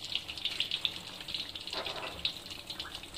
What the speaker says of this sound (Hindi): माशाल्लाह बहुत ही प्यारी लग रही है, वैसे भी देखने में ब्राउन ब्राउन सी है और ये अभी फ्राई हो रही है।